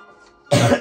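A single sharp cough bursts out loud and close after a faint, quiet stretch, heard during a Super Mario Galaxy 2 gameplay session.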